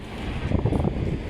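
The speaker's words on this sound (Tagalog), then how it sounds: "windy night tonight." Wind gusts on a cold night at a park in Al Barsha Heights, Tecom, Dubai, buffeting the microphone in a steady low rumble with brief louder bursts, no voices.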